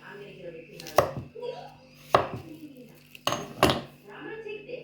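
A steel hatchet chops cucumbers in a few sharp, loud strikes about a second apart, with people talking around the chops.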